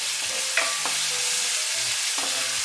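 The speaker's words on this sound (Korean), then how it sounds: "센 불로 볶아주고요" Spicy garlic shrimp with tomato being stir-fried in a pan over high heat, a steady loud sizzle with a few scraping stirs of the utensil, no voices.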